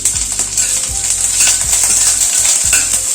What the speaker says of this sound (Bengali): প্রথমে পেঁয়াজটা দিলাম, পেঁয়াজ রসুন আর কাঁচা লঙ্কা দিলাম,